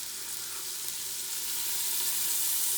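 Vegetables for chili sizzle steadily in a hot pot, a close, continuous hiss of frying with a faint stir moving through it and no talking.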